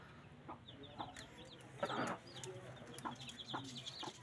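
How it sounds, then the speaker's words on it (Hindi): A brooding farm hen, sitting on eggs to hatch chicks, clucks in short soft bursts at a moderate distance, with scattered chirps and faint background ambience through the stretch. "हम लोग मुर्गी पालते रहे ये मुर्गी"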